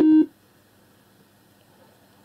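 Skype call signal tone: a short, loud electronic tone with steady harmonics at the very start, cutting off after about a quarter second, followed by a quiet background.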